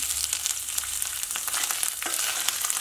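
Coconut pieces sautéing with mustard seeds and dried red chilies for a Kerala sadhya koottu curry, a steady close sizzle of frying with scattered light clicks and scrapes of stirring throughout.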